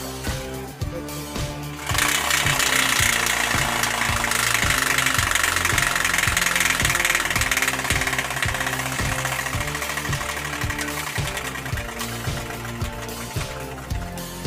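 A bicycle fitted with a hardboard piece against its spokes gives off a rapid, engine-like rattling putter that builds to a loud, steady drone, imitating a dirt bike.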